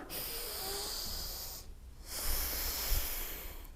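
Slow, audible breathing in and out during a spinal mobility exercise for the thoracic spine and pelvis, a long hissing breath close to the microphone, a short pause, then another breath.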